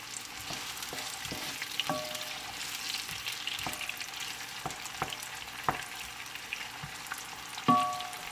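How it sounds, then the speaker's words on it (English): Red onions fry quietly in a pan for sese yam, a soft continuous sizzle broken by regular knocks and scrapes of a wooden spoon stirring, with no one talking. "And stir with a wooden spoon."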